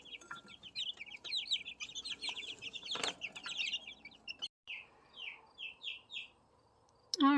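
Young turkeys and chicks in a brooder keep up a busy chorus of high peeping and chirping calls, close and steady, easing into a few spaced repeated cheeps before a brief louder call at the end.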